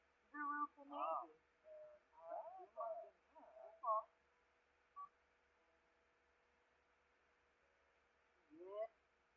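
Telephone dialing in The Sims 4, with a short run of synthetic tones and chirps played in quick bursts and then a final rising tone after a pause, clear against a quiet background.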